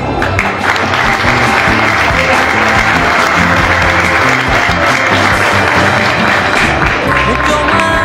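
A crowd at a scholarship award ceremony gives a student a long round of applause, with dense steady clapping throughout and voices mixed in underneath.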